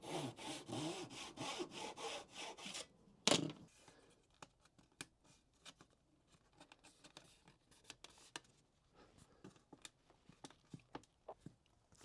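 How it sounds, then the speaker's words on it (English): Fine-tooth Japanese pull saw cutting a wooden inlay strip to length for mitered corners, with rapid rasping strokes for about three seconds, then a sharp knock and scattered light taps and clicks that fade out. "I'm cutting the inlay to length, and I'm going to miter the corners on the inlay"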